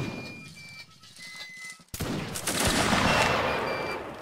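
Musket volleys ring out in a Napoleonic Wars line battle in the Mount & Blade: Warband video game: quieter scattered pops first, then a sudden loud massed volley that rolls into a sustained crackling fusillade.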